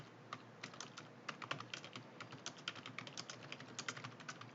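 Computer keyboard typing during spreadsheet data entry, a steady run of quick, close, fairly soft keystrokes with small irregular pauses and no voices.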